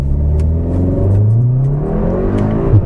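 A Cupra Ateca 300PS SUV from 2019 revs hard under acceleration, its engine note climbing steadily in pitch before a brief dip at a gear change, loud and close with no talking.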